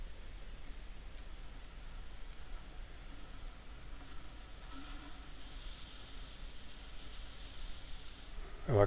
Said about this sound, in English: We're in a cave yet, the rain still gets in here.